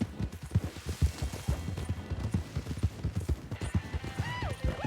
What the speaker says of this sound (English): I heard a bunch of horses